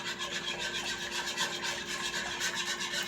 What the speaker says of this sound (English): Just keep whisking that around, because you don't want nothing to stick, you don't want nothing to burn